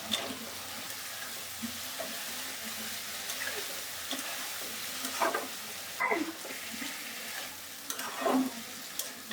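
Pointed gourds stirred and fried in a cooked spice paste with Kashmiri chili powder, a steady low sizzle broken by several louder scraping stirs toward the end.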